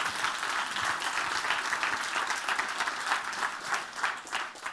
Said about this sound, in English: give them a nice round of applause as they join me on the stage